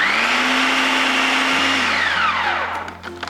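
An electric mixer whirs steadily through cheesecake batter with added sugar in a kitchen, a loud continuous motor drone whose pitch shifts and drops partway through, with no talking.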